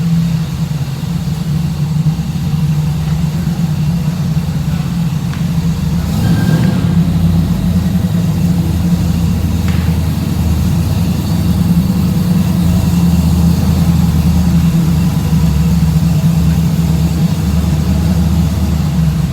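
A car engine idles steadily at a Cars and Coffee show in Hutchinson, Kansas, a loud, continuous low rumble that holds without revving.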